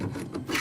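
A blade rasps back and forth against metal prison bars in a short, gritty scraping burst, close and fairly quiet.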